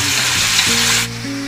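Chicken curry sizzles loudly in a home kitchen frying pan while being stirred, a dense continuous crackle up close with a low hum underneath, the hiss dropping back about two-thirds of the way through.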